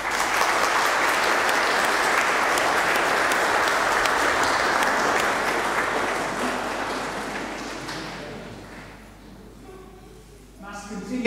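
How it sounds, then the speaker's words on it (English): A congregation applauding at a Sunday Mass in church, a loud sustained round of clapping that gradually fades away near the end. "Shall we give Colette a little round of applause?"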